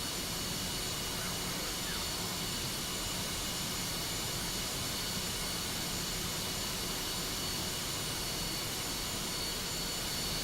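An F-5E jet engine in the DCS flight simulator runs as a steady, loud, continuous whine and roar with no change in level, heard alone without talk.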